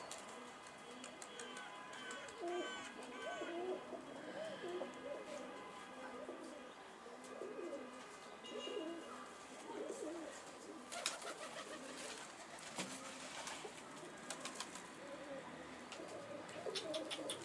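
Mardin pigeons coo in soft, repeated low calls, fairly faint and mixed with other bird chirps, while people talk nearby.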